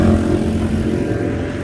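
A steady, fairly loud low hum comes from a motorboat engine running on the Sea of Galilee. It holds evenly throughout, with no talking.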